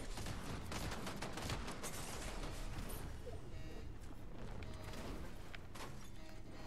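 Rapid video-game gunfire rattles in quick volleys at low level, the bursts thinning out over the last few seconds, with faint voices in the background.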